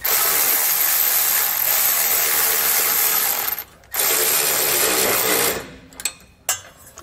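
A ratchet wrench with a 14 mm or 9/16 socket snugs up the nuts on Firestone Ride-Rite air helper spring brackets on a 2016 Ford truck. It gives a loud, fast continuous clicking, then a brief pause, more clicking and a few last clicks, with no talking.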